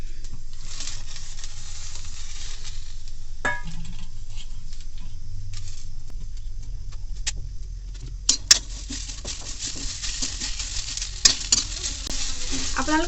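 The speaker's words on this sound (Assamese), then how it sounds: "বাদামখিনি যিহেতু অলপ ভজা হৈ গৈছে, মই ইয়াৰ ওপৰতে নৰসিংহ পাতখিনি দি দিম" Peanuts fry and are stirred in a pan with narsingha (curry) leaves and capsicum chillies for a chutney, a steady close sizzle throughout with scraping stirs and a few sharp utensil clicks toward the end.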